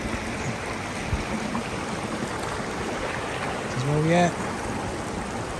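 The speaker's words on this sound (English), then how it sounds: "Lower Glady River." The Lower Glady River in winter rushes in a constant broad wash of flowing water, heard alone, with a brief voice near the end.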